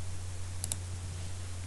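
A computer mouse gives a quick double click, two sharp close taps in a row over a quiet steady background hum, with no speech.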